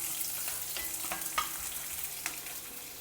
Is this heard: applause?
no